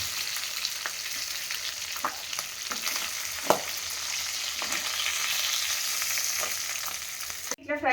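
Oil sizzles in a pan while fish is fried for a Telugu fish curry, a continuous close hiss broken by a few soft stirring knocks, with no talk.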